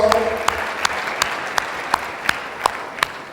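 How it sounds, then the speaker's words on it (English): A seminar audience at a talk on MBA entrance exams claps for a student, producing a steady wash of applause with sharp, evenly spaced louder claps that form a regular beat throughout. "Please, a big round of applause."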